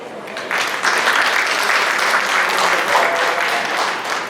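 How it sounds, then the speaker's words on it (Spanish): A conference audience at a panel on tourism destination competitiveness breaks into steady, dense applause that swells in after a brief pause and holds loud and even throughout. "Vamos a darle un fuerte aplauso."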